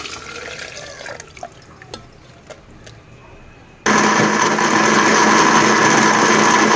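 Electric mixer grinder blending ginger, garlic and soaked chillies for tarka chutney starts abruptly partway through, a loud steady whir after a quieter stretch of faint kitchen noise and small clicks.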